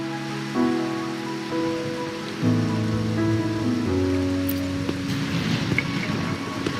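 Steady rain hisses and patters in the Rinascita region of the video game Wuthering Waves, a continuous wash of sound beneath a slow, melodic music score.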